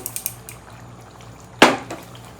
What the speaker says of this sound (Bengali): আমি গ্যাস বন্ধ করে দিয়েছি গরমে এখনো ফুটছে